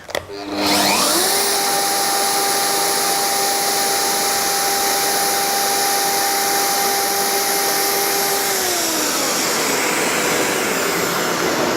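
Wood router spinning up from rest, a sharp start followed by a steady high-pitched whining motor held clear of the wood, loud and continuous, with the pitch dipping slightly near the end.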